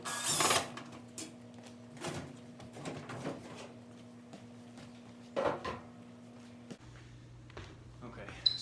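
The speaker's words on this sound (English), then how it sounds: "There's some screws on the back top that you're going to have to remove to get the top off" Screws are removed from the back top of an LG dryer with a power driver, heard as several short whirring bursts over a steady low hum nearby.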